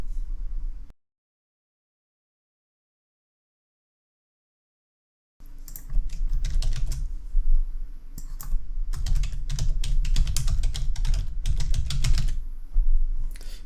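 Rapid keyboard typing clatters up close after a short stretch of silence, with irregular bursts of key clicks continuing steadily to the end.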